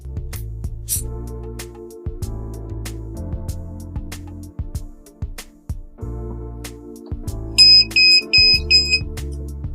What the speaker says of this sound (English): And you can see how it has detected the presence of the gas.